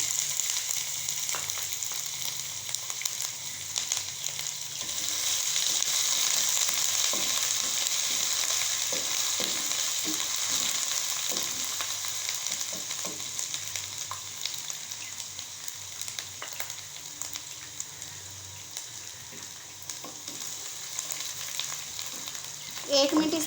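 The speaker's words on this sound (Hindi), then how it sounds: "जैसा कि प्याज ब्राउन होना शुरू हो गया है, अब हम इसमें डालेंगे अदरक लहसुन चॉप की हुई।" Browning onions fry in a pan with chopped ginger and garlic, giving a steady close sizzle and crackle that continues throughout, with occasional scraping and stirring clicks and no talking.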